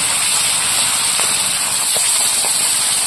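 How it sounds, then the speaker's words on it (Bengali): Pangas river fish fry in hot oil with a loud, steady sizzle and scattered sharp little pops. No one speaks. "মাছ যা ফাটছে ফটফট করে, নদীর মাছ এরকম ফাটে"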